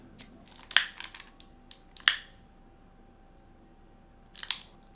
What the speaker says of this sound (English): I'm gonna cut a piece here.